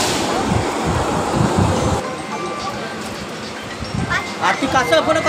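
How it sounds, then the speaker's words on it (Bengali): A Bongaon local train sits at Sealdah station, heard from inside the carriage as a continuous rumbling, clattering rail ambience with people's voices mixed into the busy background. "শিয়ালদায় ঢুকে পড়েছে বনগাঁ ট্রেনটা। তো আমরা ট্রেনে আছি এখন।"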